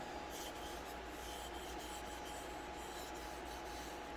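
Steady rasping of sandpaper rubbing over painted bodywork, a continuous low scratchy hiss with faint rhythmic strokes, quiet and uninterrupted.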